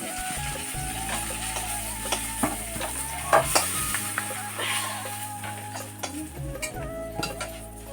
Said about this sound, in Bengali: মাছটাকে ভেজে নিলাম সুন্দর করে কড়া করে